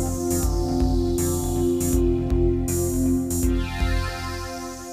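A sequence on a Roland JD-Xi synth at its standard pitch, with a repeating bass figure, bright sustained chords and a steady drum pattern, played loud and close with no voices.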